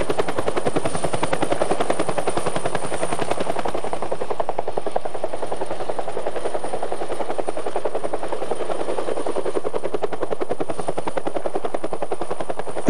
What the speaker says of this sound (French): Lorsqu'il entend l'hélicoptère s'approcher